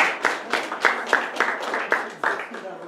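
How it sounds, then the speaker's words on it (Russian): A small audience at a photo exhibition opening claps for Dmitry in a brisk, rhythmic round of applause, close and moderately loud, with the claps landing in distinct regular beats. "давайте еще раз аплодисментами поддержим Дмитрия"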